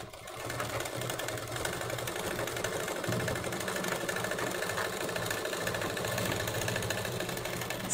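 A sewing machine stitches a layer of lining fabric onto a blouse, running as a steady, continuous mechanical whir with fine rapid ticking throughout.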